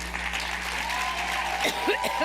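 An audience claps at a comedy-style show, a steady crowd patter with a low hum and brief voice-like warbles near the end.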